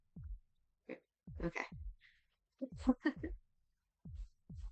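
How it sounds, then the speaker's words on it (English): Deep, loud heartbeat thumps pulse from a video game, arriving in uneven pairs with quiet gaps between them, while a person speaks briefly over them. "Loud heartbeat noises."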